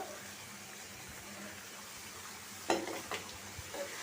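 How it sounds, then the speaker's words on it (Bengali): Tomato and masala for a prawn curry fry with a low, steady sizzle in the pan, fairly faint, with a couple of sharper clatters of stirring toward the end and no one speaking. "টমেটোটাও আমি কষায় নিব দুই তিন মিনিট"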